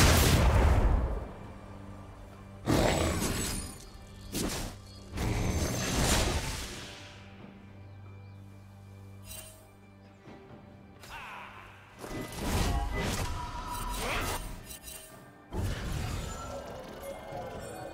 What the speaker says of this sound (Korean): 파랑 팀의 포탑이 파괴되었습니다.